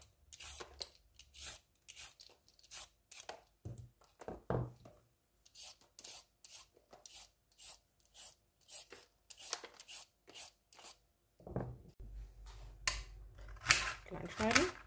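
A knife cuts carrots on a board for a carrot stew, a run of crisp, evenly spaced chopping strokes close by, followed by rustling and handling noises, with a voice speaking at times.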